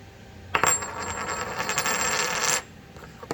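A 1924 coin is dropped onto a hard surface, a single bright metallic strike followed by a ringing, shimmering tone that sustains for about two seconds before cutting off, close and fairly quiet.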